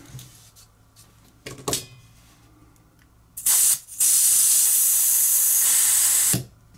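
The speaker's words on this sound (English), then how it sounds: "now better drain the butane tank" Butane drained from the tank of a vintage Colibri dual-flame lighter gives a few short clicks, then loud, steady gas hisses: one brief spray and a long sustained release lasting about two and a half seconds, close up.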